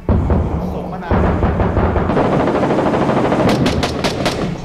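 Rapid automatic gunfire from a Middle East shooter video game, loud and continuous, with a brief break just after the start and sharper close shots near the end.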